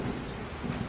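Heavy rain and rumbling thunder as a cartoon sound effect, a dense, loud wash of downpour with low booming swells throughout, no voices.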